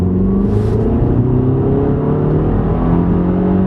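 An Audi A3 TFSI accelerates hard in second gear, its engine note climbing steadily in pitch as revs rise, loud and close from start to finish.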